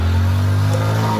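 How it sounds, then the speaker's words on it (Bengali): A motorcycle engine drones steadily nearby, a loud, low continuous hum with no pauses over the brief moment. "ওই দেখ একটা মোটর সাইকেল আছে"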